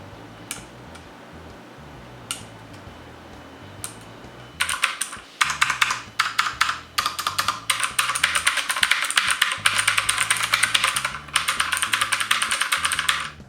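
Redragon USAS K553 mechanical keyboard typing, a few isolated clicks at first, then a fast, loud, continuous stream of clacking keystrokes close up.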